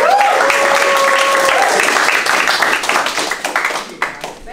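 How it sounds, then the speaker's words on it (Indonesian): A classroom at Universitas Negeri Jakarta claps for a student group's presentation, brisk applause that starts full under a brief sustained tone, then thins into scattered individual claps and fades toward the end. "tepuk tangan"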